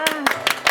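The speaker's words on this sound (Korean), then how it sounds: "우리 경림쌤과 정길쌤 큰 박수로 모시겠습니다." Audience claps to welcome teachers onstage at a church middle and high school summer retreat: a few quick, sharp claps in under a second, overlapping a voice.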